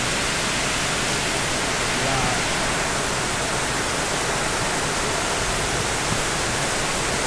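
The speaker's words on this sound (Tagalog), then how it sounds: "Grabe yung lakas ng ulan." Heavy rain pours steadily at a barangay plaza beside a covered court, a dense, loud, continuous hiss of downpour with no break across the whole stretch.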